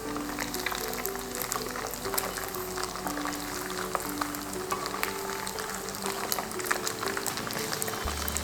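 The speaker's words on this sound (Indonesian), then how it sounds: "Menggoreng teri juga" Anchovies frying in oil in a pan while cooking tinutuan porridge, a steady dense crackling sizzle that runs without pause and sits under a low tonal background.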